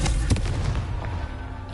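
A Confringo blasting spell goes off in a wizard video game, a loud close explosive burst with a booming low rumble that rolls off and fades over under two seconds.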